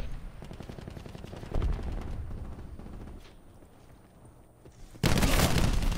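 Rapid gunfire from a shooter video game, loud and continuous bursts of automatic shots that drop slightly midway, then surge into a dense, louder volley near the end, with no talking.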